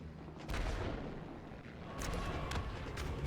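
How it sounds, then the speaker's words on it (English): The Holy Hand Grenade from Monty Python goes off in the video game Golf With Friends, a dense rumbling boom with a few sharp cracks, sustained and loud for several seconds. "Holy grenade from Monty Python?"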